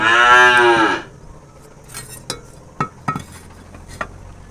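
A single loud, close cow moo lasting about a second, followed by a few scattered clinks and knocks in a quiet space.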